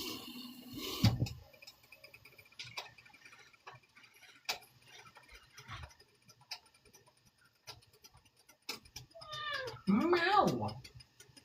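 A cat meows with a rising, wavering cry near the end, after scattered soft clicks and a brief loud sound early on, with a person speaking to it nearby.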